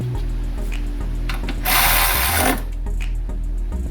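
Power tool driving bolts on a 2007 Lexus ES350 during air conditioning compressor work: a steady close motor whir under which a single loud, high-pitched burst of driving lasts about a second before dropping back to the idle hum.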